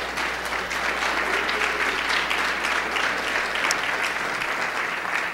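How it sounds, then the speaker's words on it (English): A large audience at a CES 2013 conference session applauds the sponsors, a dense, steady wash of clapping that holds at full strength for about five seconds with no talk over it. "let's give a big round of applause to the sponsors today that made this whole thing possible"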